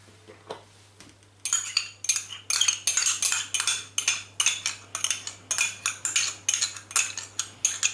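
Potatoes are mashed in a dish with cheese and liquid cream for a hake parmentier, making a steady run of close, rhythmic scraping and clinking strokes of a utensil against the dish.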